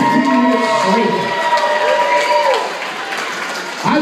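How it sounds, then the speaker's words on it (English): Crowd at a live pumpkin pie eating contest cheers and claps for a competitor, a loud mixed roar of applause and shouts that fades slightly toward the end, with voices calling out over it. "Can we give a little cheer for Natter?"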